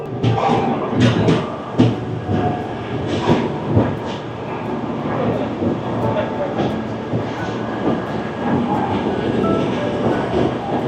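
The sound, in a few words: Puri to Sealdah Duronto Express train departing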